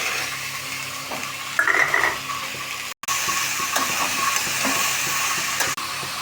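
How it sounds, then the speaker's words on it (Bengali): Chopped bottle gourd with turmeric frying in a pan, a steady close hissing sizzle with a brief clatter partway and a sudden short cut near the middle, no talking. "লৌকিটাও ঢেলে দেবো"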